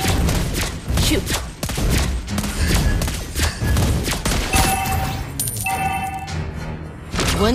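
Lesley's sniper rifle fires in the Mobile Legends: Bang Bang mobile game, sharp shots and heavy impacts repeating through a dense, loud mix of game effects and music, with a brief tone sequence near the end.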